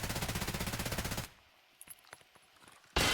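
Automatic gunfire in a competitive shooter video game, a loud rapid burst of evenly spaced shots that cuts off abruptly, followed by a few scattered distant pops and a final loud blast of fire at the end.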